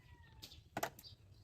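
A cat gives one short meow, fairly faint against a quiet indoor background, with a few soft rustles around it.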